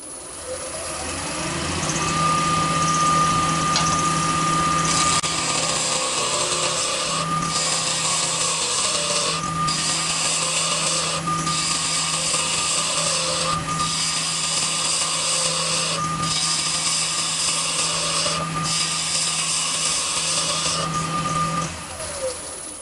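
A spindle roughing gouge cuts wood on a lathe, taking the corners off a fountain pen blank. It makes a steady whirring motor hum under a rough, rhythmic scraping that pulses in repeated bursts for about twenty seconds.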